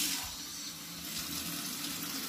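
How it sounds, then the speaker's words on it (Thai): Water runs steadily from a tap into a bowl to mix homemade Italian pizza dough, a continuous close splashing flow with no talking. "ใส่น้ำนะคะน้ำ"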